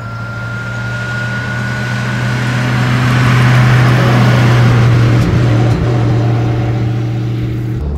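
A 1936 Mercedes 500K Spezialroadster with an eight-cylinder engine and hydraulic brakes drives along with a steady low engine drone, swelling slightly louder midway and then easing, with wind and road noise over it and no talk.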